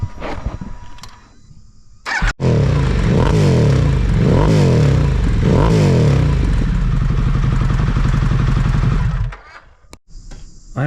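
A Harley-Davidson Pan America motorcycle engine fires up close and loud, revving in several rising and falling blips over a rumbling idle before shutting off.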